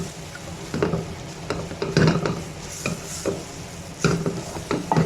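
Milk cooks down in a pan over a full flame with a soft sizzle under irregular scraping and stirring strokes against the pan, close and moderately quiet.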